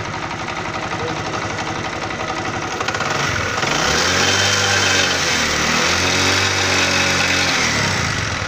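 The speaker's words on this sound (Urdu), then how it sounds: "جو کھڑکی ہے اس طرح کی آواز آ رہی ہے یہ پسٹم کی آواز ہے" A motorcycle engine idles steadily up close, its rough running laced with a light metallic knocking tick from piston knock.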